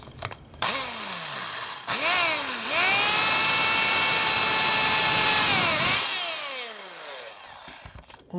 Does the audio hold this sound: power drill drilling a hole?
yes